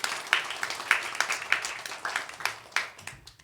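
A church congregation claps in a loose rhythm of sharp, separate hand claps, moderately close and fading toward the end.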